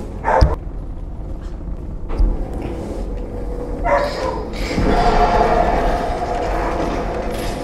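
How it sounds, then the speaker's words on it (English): A dog barking outdoors, a short sharp bark near the start and another around two seconds, faint and distant under game music and ambient noise. "And probably our dog out there."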